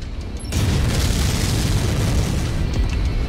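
A mech blowing up in the video game MechWarrior 5, with a short click and then a loud, close, sustained roaring explosion that rumbles on for several seconds.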